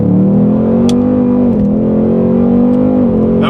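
A 2021 Ford Mustang Mach 1 accelerates hard, its loud, close engine droning steadily, with brief dips in the note as it shifts from second to third gear and the wheels slip a little.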